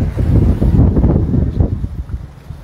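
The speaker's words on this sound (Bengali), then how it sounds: "জাস্ট ঝোড়ো হাওয়া দিচ্ছে" Strong, gusty wind batters the microphone outdoors with low, rumbling buffets that surge loudly, then ease and flutter toward the end.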